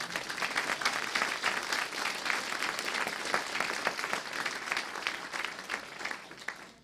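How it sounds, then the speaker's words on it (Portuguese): A church congregation applauding, dense steady clapping from many hands at moderate distance that keeps going throughout and tapers slightly at the end. "Aplauda o Senhor."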